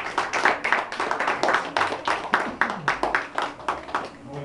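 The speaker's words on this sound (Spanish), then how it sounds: "gracias, Rodriguito, se merece un aplauso, niño." A small group claps for a child after a reading exercise, a run of distinct, fairly close hand claps in an uneven rhythm that tapers off toward the end.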